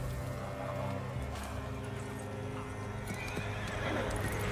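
Horses in a Total War: Warhammer cinematic trailer whinny and neigh over clopping hooves and a dense, rumbling battle-ambience backdrop, moderately loud and continuous.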